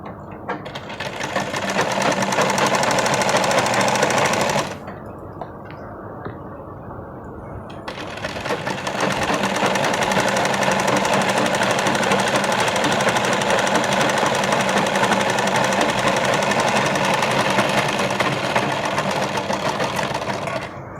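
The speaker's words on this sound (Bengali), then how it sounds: "সেলাই দিচ্ছি।" A sewing machine stitches a fold on a designer top: a loud, fast, steady mechanical whir runs for a few seconds, stops briefly, then resumes and continues steadily for a long stretch.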